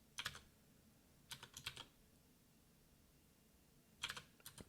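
Fingers tap on a computer keyboard while writing Swift code, three short bursts of quick close keystrokes separated by quiet pauses.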